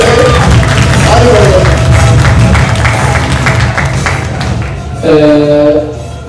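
Audience applause at an awards event where a young comedy actor is honored, loud and sustained throughout, mixed with crowd noise and a voice talking over it.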